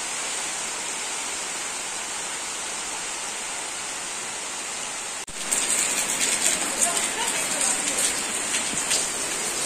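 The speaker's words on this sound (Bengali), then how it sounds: "এই যে এখন বৃষ্টির মধ্যে ভিডিও করতেছি, এই শুরু হয়েছে বৃষ্টি অবস্থা" Rain falls steadily at a rural market, a continuous hiss that suddenly grows louder and closer partway through, with spattering drops on a nearby surface.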